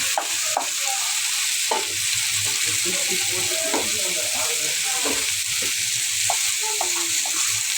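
Food being stirred in a frying pan, with a loud steady sizzle and repeated scraping strokes of the utensil against the pan, under faint voice.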